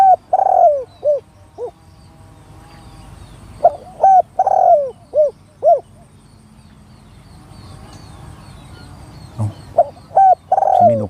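Spotted doves cooing during decoy dove hunting, loud close repeated coo phrases in rhythmic bursts separated by quiet gaps, with faint background rustle.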